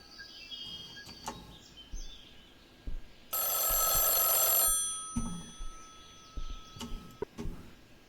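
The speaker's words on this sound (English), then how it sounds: "Pick up the phone." A telephone rings once in the Mothered horror role-playing game, a bright, buzzy ring lasting just over a second, set among quiet clicks and soft game ambience.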